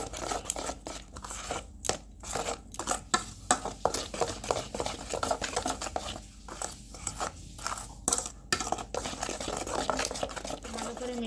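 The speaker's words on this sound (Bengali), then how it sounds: "এই উপকরণগুলোকে ভালোভাবে মিশিয়ে নেব।" Spices, green chili and salt being mixed together by hand in a bowl, a close, continuous rustling and scraping with uneven bursts and no talking.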